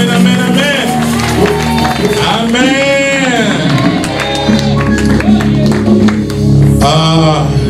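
A church congregation cheers and applauds at an evening service, with a crowd of voices raising loud whoops and sustained shouts over continuous clapping that keeps going throughout, close and energetic.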